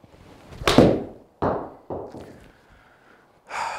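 Golf club striking a ball on a practice round with newly bought clubs: a few sharp, separate impacts, each fading quickly, with quiet air between them and no talk.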